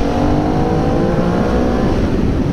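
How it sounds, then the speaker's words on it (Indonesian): A V-twin motorcycle engine rumbles loudly and steadily up close, its deep throbbing exhaust note holding at high revs without pause. "motor ini V-twin, jadi suaranya khas."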